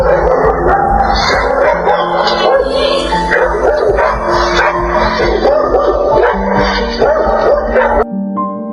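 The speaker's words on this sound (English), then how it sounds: "These two German Shepherds do what they do best and chase a burglar away from their home." Two German Shepherds bark loudly and continuously while chasing a burglar away from their home, with overlapping barks, yips and whimpers that end abruptly.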